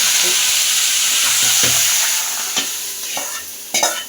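Spices and curry leaves crackle and sizzle in hot ghee, with scattered sharp pops over a steady frying hiss and occasional stirring scrapes.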